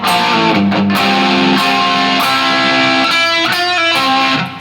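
A guitar riff played slowly on a heavily distorted electric guitar, loud sustained power-chord tones with palm-muted chugs, steady and unaccompanied.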